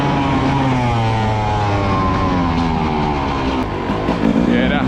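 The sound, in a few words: GasGas 300 dirt bike engine revving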